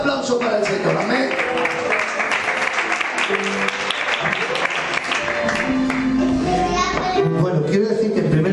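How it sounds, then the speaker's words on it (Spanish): A church congregation applauds during a service, with sustained, dense clapping and voices mixed in throughout, loud and full in the room. "Un fuerte aplauso para el Señor"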